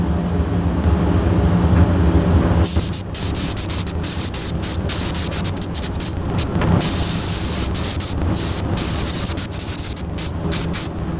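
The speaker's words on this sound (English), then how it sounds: "the base coat was painted with a Sata 5000" Sata 5000 spray gun laying base coat on the sill of a Lotus Elise, a loud steady hissing spray that runs continuously, with a brief denser burst near the start and short breaks in the high hiss.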